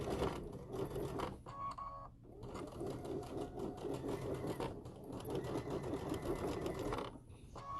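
A sewing machine runs close and steady, top stitching around the edge of a fabric placemat, its rapid mechanical chatter pausing briefly a few times before resuming, with no talking.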